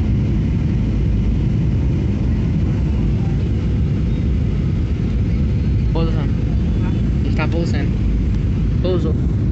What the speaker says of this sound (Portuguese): Estamos pousando.